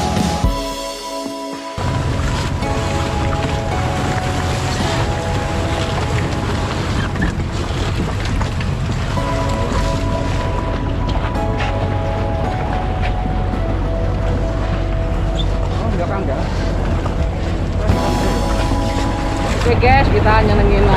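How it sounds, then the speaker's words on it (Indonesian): A speedboat on Telaga Sarangan lake roars steadily with a loud, continuous motor drone, water rush and wind buffeting the microphone, briefly quieter at the start, with voices faintly under the noise. "Kita naik perahu. Kita naik speedboat ya guys."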